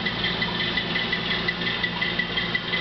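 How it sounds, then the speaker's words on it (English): A model-railroad Erie Lackawanna U-25B diesel locomotive idling with DCC sound, a steady, slightly rattling engine drone from a small speaker with no voices. "You can hear the Erie Lackawanna. U-25B is idling."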